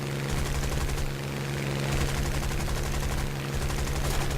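Aircraft machine guns fire in War Thunder during a 4v4 air duel. A dense, continuous buzzing rattle of gunfire sits over a steady engine drone.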